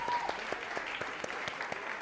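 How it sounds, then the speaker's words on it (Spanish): Clapping for a school band of vocalist, DJ, bass, drums and guitar: a small group applauding in a quick, fairly even rhythm, close and moderately loud, for about two seconds. "Aplauso para ellos."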